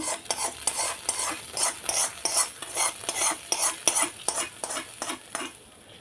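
Slightly cooled tempering oil poured into pineapple pachadi and stirred, giving rapid, rhythmic scraping strokes with a light sizzle, close and steady, then easing off at the end.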